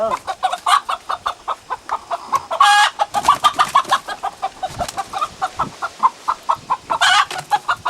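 Hens clucking steadily in a rapid, uneven rhythm, close by, with a couple of louder squawking calls rising above the chatter.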